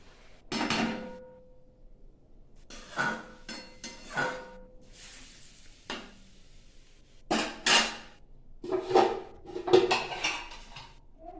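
A metal lid is set onto a cooking pot of kulekhara greens, making a few sharp clanks and rattles separated by quiet gaps, close and fairly soft.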